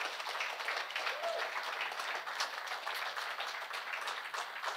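Theatre audience at a May 1st concert breaks into sustained applause, a dense steady patter of many hands clapping at moderate distance without pause.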